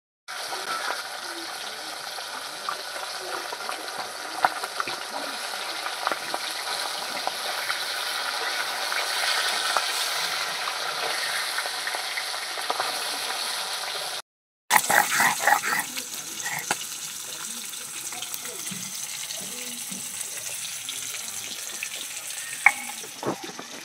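Small bony fish fry in hot oil with a continuous, loud, close sizzle that holds steady, cuts out briefly midway and resumes crackling. Faint talk can be heard underneath.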